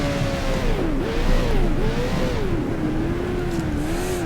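A race car engine in the F1 Challenge video game, in a 1978 season race, revs loudly and continuously, its pitch rising and falling through repeated gear changes with no gaps over several seconds.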